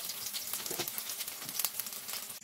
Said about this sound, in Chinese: 下入鱼，将其两面的皮煎一下。